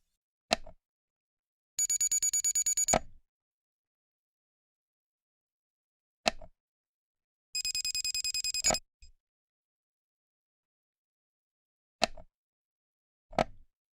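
Two short bursts of a shrill electronic alarm tone from a MedELert automatic pill dispenser, each lasting about a second, separated by soft clicks of buttons being pressed, with silence between.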